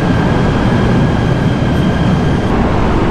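Steady, loud rumble of a moving passenger train heard from inside a carriage, with continuous low wheel and track noise and a faint high whine, no talking.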